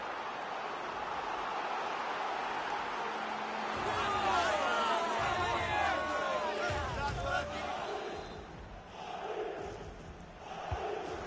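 Stadium crowd noise in the video game EA Sports FC as a corner kick approaches: a broad roar of supporters that swells with chanting and whistles, under a commentator's voice.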